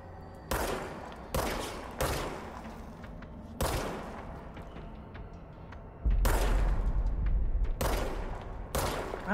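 Gunfire in the video game Control, several loud bursts of shots spaced a second or two apart, each trailing off into a booming echo.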